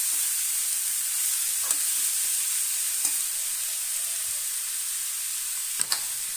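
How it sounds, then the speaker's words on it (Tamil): Grated radish sautéing in a pan, a steady faint sizzle with a few soft scraping stirs and spoon taps, close by and with no talk. "முள்ளங்கி அதில் போடுறோம். அப்படியே வதக்கிக்கிட்டே இருக்கணும் கொஞ்ச நேரம்."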